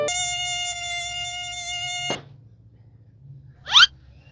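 A mosquito's thin, high-pitched whine holds steady for about two seconds and then cuts off, followed by near silence and one brief, louder buzzing swoop as it flies close past the ear.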